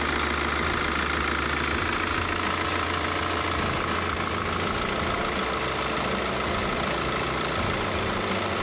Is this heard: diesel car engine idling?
yes